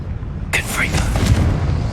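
A Confringo fire spell from Hogwarts Legacy erupts into a loud, sudden blast that flares briefly and then rumbles away, laid over a muffled game soundscape.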